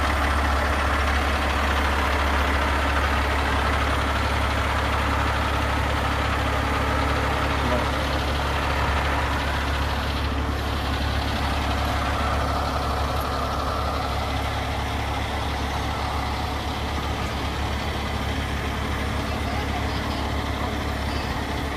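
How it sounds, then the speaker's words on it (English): A big rig truck idles steadily in a street setting, its deep low rumble continuous and loud throughout, with distant voices and ambient outdoor noise layered faintly over the engine. "It's a big rig right here, man."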